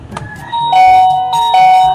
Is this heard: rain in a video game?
no